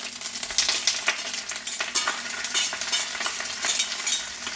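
Sautéing in a pan makes a loud, dense sizzle with constant scraping and rustling from vigorous stirring, close up and with no voices.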